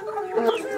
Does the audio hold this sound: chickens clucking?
yes